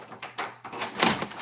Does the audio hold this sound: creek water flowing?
no